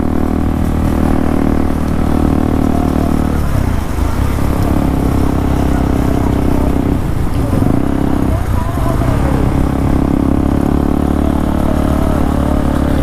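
A motorcycle engine runs steadily through the whole stretch while riding in traffic, a constant mid-pitched drone with slight surges, loud and close, with voices talking over it.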